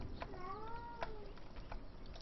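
A cat gives a faint, drawn-out meow with a gently falling pitch, heard over a steady background hiss along with a few soft clicks.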